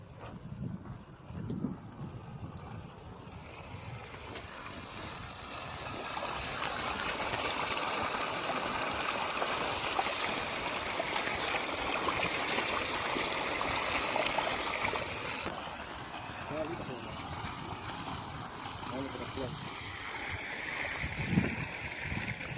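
Water from a solar-powered pump gushes steadily outdoors, a continuous broad rushing flow mixed with wind noise on the microphone, lasting throughout without speech.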